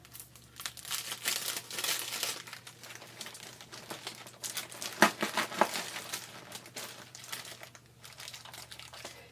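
Tape being pulled and wrapped around a candy package, giving a steady stream of close crinkly rustling and crackling, with a couple of sharper snaps in the middle.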